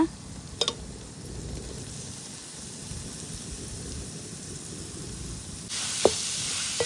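Village-style fish egg burji is stirred in a frying pan: a soft sizzle with scraping strokes and a couple of sharp utensil taps, and the hiss swells louder near the end.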